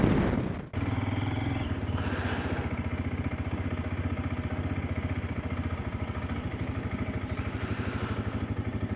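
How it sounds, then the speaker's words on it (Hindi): A TVS Apache RTX 300 motorcycle cruises steadily along an empty national highway, its engine holding a constant, close drone with wind rush over it and a brief dip near the start, with no talking. "I can put my bike on cruise control"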